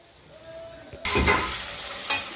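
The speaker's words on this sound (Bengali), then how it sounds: "আলু এখনো কষানো হচ্ছে" Half-boiled potatoes are sautéed in a pan for aloo bori jhol, a vegetarian Bengali dish. After a quiet start, a loud sizzle bursts in and keeps up steadily, with a short scrape of stirring near the end.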